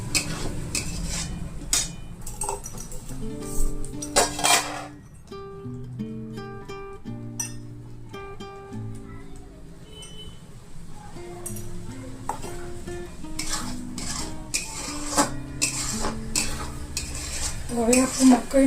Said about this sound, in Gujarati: બરોબર તેલના ઘી છૂટી જાય ત્યાં સુધી હલાવો